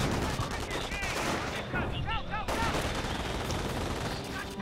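German artillery and gunfire pound a base in the World War II strategy game Company of Heroes, with dense rattling fusillades and heavy impacts, and brief whistling shells cutting through the steady barrage.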